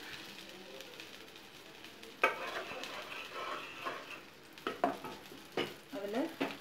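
A ground spice paste fries in butter in a hot pan as the base of a palak paneer gravy, a close, moderate sizzle punctuated by irregular scraping and clattering stirs growing busier toward the end.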